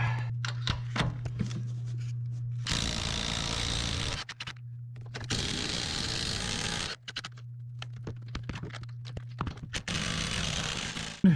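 On a 2011 Suburban, an impact wrench rattles off 15mm nuts from wheel studs in two long, loud bursts, with scattered metallic clicks and handling noises between them over a low hum.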